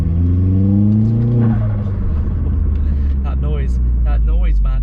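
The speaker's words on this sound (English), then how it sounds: "The noises these turboed cars make." Turbocharged Vauxhall Astra VXR engine with a knocking fault revving hard, a loud rising drone that drops off, followed by a low rumbling idle with brief revving swoops over it.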